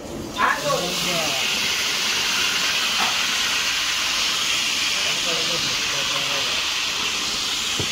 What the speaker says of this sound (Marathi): बोंबील फ्राय करायला घेतले आम्ही